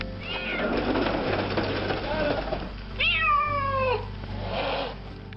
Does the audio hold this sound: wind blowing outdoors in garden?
no